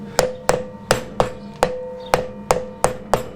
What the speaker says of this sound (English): Better to use a rubber mallet here, or a soft impact mallet.